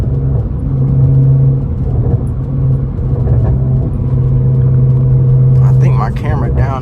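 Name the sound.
8th gen Honda Accord car engine while driving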